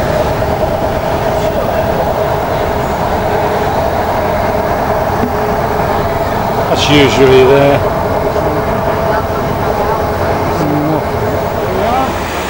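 A steady rumble and rattle from inside a train passing the sidings just south of Oxford continues throughout, with someone talking over it and a brief louder clatter midway.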